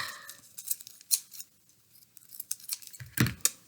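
Scissors snip a paper liner into a teardrop petal shape for an Earth Day daisy craft, a run of quick close cuts spread across the moment, with a firmer snip near the end.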